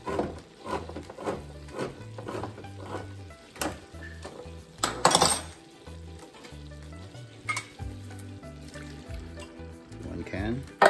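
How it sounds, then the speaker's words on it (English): Canned diced tomatoes go into a hot pot of chili, a wet sizzle with metallic clanks and stirring scrapes from the pan, while a voice talks throughout. "start opening up these cans of tomatoes, these diced tomatoes. I'm just going to toss them in there."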